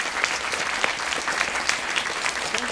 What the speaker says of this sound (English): Pete, Wendy, Jason, James, and Ryan, give them a round of applause